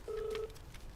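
A mobile phone rings in an office setting with one steady electronic tone lasting about a third of a second. The tone is clear and fairly loud, followed by quiet room noise.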